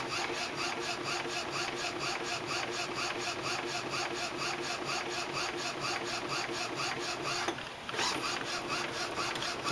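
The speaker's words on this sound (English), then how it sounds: "So it's just printing now." A printer running steadily, with a rhythmic mechanical whir and repeated clicking of the print head moving back and forth, and a brief pause near the end.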